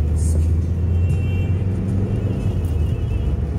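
A lorry passes on a road in Cumbria, heard from inside a moving vehicle as a steady low engine rumble with a brief swell, while people talk over it.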